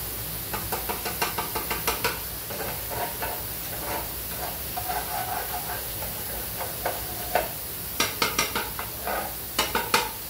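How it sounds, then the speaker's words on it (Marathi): Kurdai crumbs frying in oil in a pan, a steady sizzling hiss under repeated stirring scrapes and knocks of a utensil, close and continuous with no talk. "म्हणजे जाऊन द्या, सगळंच तळूया."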